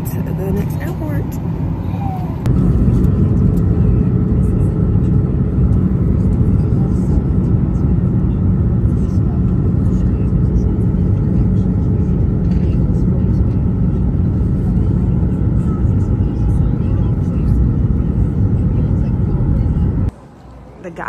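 Loud, steady low roar of a jet airplane engine at an airport, a deep rumbling drone that fills the whole stretch before cutting off near the end.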